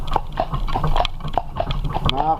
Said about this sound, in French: c'est rien, c'est des vaches